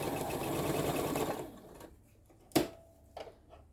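A sewing machine stitches a crazy quilt block seam in a quiet room, a short whirring run that stops, followed by a couple of faint clicks and taps.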